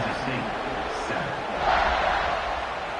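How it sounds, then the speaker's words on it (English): Stadium crowd buzzing after a score in the NCAA 26 college football video game, a continuous roar of massed voices with a slight swell midway, under a commentator's voice. "this crowd is buzzing after that last score"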